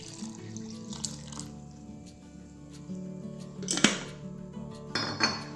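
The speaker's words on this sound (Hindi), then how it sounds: "अब हम इसमें 2 ग्लास दूध जो हमने लिया हुआ था वो हम इसमें डाल देंगे।" Two glasses of milk are poured into a mixer jar holding blended mango pulp for a mango milkshake, with soft liquid splashing and a few clinks of the jar, close and fairly quiet.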